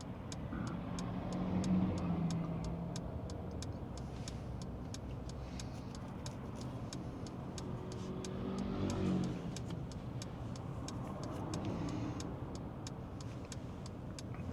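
Cars moving through a junction in Anniesland, Glasgow, heard from inside a car waiting to turn right: a steady traffic rumble with engines swelling as vehicles pull away, plus a faint regular ticking like an indicator.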